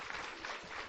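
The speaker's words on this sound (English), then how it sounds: "Yes, round of applause, please." Symposium attendees applaud briefly, a faint, thin patter of clapping from a modest crowd lasting under a second.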